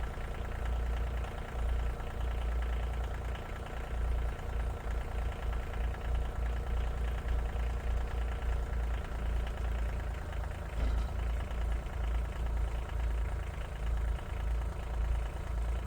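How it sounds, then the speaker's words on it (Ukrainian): A diesel tractor engine idles steadily with a low, rumbling knock, running continuously and fairly close with no talking. "а потім Максим сів у кабіну нашого трактора і почалася перша спроба"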